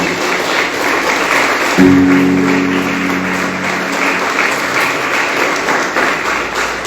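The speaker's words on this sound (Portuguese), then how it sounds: "Dê uma salva de palmas bem forte para ele" A church congregation breaks into strong applause, loud continuous clapping filling the room throughout, with a brief sustained tone rising in the middle.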